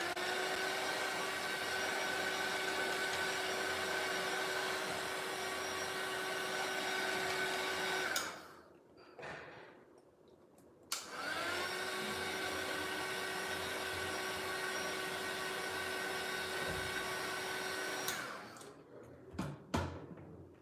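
A heat tool or hair dryer dries mixed media cards with a loud, steady whirring drone, cut off around the middle, restarted, then switched off again near the end with a few clicks.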